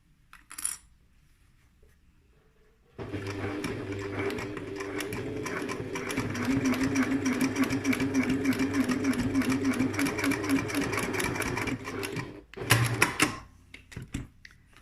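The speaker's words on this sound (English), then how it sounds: "I'm just going to machine down here." Sewing machine stitching a folded messenger bag strap, a steady fast mechanical whir running for about nine seconds, bracketed by a few clicks and handling knocks before and after.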